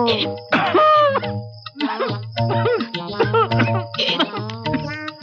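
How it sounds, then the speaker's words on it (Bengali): A person with a cold and tonsil trouble coughs repeatedly in a household film scene, harsh voiced hacks and throaty rasps coming close and loud in uneven bursts. "কিরকম কাশিও হয়েছে"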